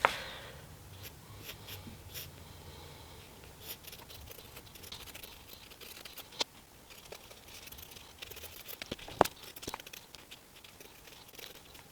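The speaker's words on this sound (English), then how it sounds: "So let's just sketch it in first." A pencil sketches a peach on paper, a quiet, close scratching and patter of short strokes with a few sharper taps, faint throughout and with no talking.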